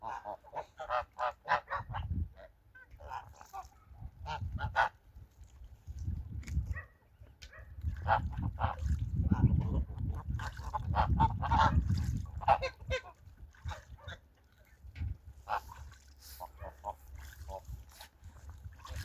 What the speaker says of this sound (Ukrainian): Так як гусаки починають уже між собою виясняти стосунки